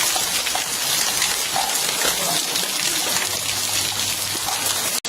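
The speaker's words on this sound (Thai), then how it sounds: "ฝนตกเห็นไหมฟ้าร้องแล้วฟ้าร้องแล้วฝนตกไม่เยอะ" Steady rain pours down in a dense, continuous hiss, close and fairly loud, with a faint low rumble that could be distant thunder; no voices break through.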